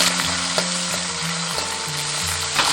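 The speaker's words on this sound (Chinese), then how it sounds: "煎鱼一定要热锅冷油，这样子它怎么煎都不会粘黏" Pomfret fish sizzling and frying in hot oil in a pan, a steady crackling hiss with occasional utensil scrapes and stirring, no voices.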